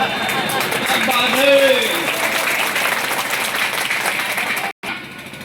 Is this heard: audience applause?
yes